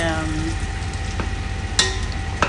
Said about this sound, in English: am frying my onions